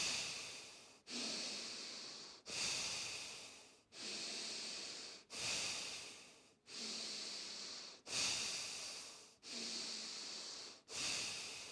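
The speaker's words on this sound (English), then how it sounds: "So breathing in with me." Deep, forceful breaths during a breathwork practice repeat in a steady rhythm of about eight cycles, each a loud, close inhale and exhale with airy, snorting texture and no talking over them.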